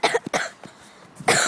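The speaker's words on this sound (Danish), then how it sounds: "Jeg hoster fandme værre end en ged snart." A 64-year-old man coughing, several rough, close coughs in short bursts separated by brief pauses, ending in a louder hacking fit.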